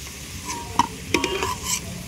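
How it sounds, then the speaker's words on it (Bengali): Lightly fried potatoes without turmeric hiss in a pan as they are stirred, a soft steady sizzle broken by a few sharp scraping clicks of the utensil. "আলুটা হালকা করে ভেজেছি, বিনা হলুদের আলু।"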